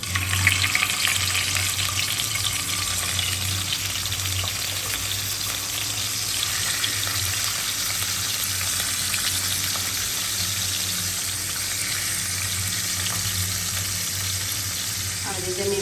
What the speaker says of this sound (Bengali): এখন মাছটা আমি হালকা ভাজি করে নিব।